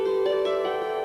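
A custom hammered string instrument rings out a normal scale, its bright struck strings blending into a shimmering, sustained wash of overlapping tones, close and steady.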